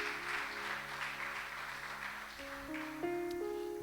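A church congregation claps in praise during a Spanish-language sermon, a fairly faint, brief burst of mixed applause with sustained organ or keyboard chords ringing underneath and rising toward the end.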